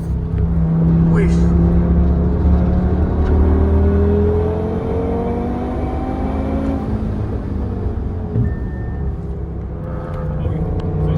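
BMW M2 cars race past on the Nürburgring circuit, their engines roaring loudly and then fading in a steady, sustained drone, with people talking over the noise.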